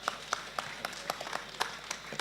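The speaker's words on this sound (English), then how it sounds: "I think you need to give Caleb a big round of applause" Sparse, faint clapping from a small audience at an evening forum in Golden Square Freedom Park, a handful of scattered, irregular claps spread across a couple of seconds.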